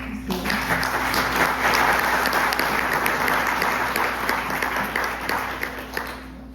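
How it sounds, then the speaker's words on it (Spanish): A church congregation claps together in sustained applause, a dense, steady patter that fades slightly toward the end, with a faint voice underneath. "así que se pueden dar un aplauso."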